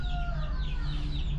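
Backyard-farm chickens cluck and warble close by, with overlapping calls continuing over a low rumbling background.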